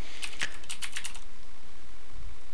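Close, crisp keystrokes as a command is typed on a computer keyboard, a quick burst of clicks in the first second, then quiet with a soft thump near the end.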